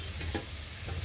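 Lote fish (Bombay duck) going into a hot pan of spiced masala with no added water: a quiet, steady sizzle with a couple of soft scraping bursts, very short.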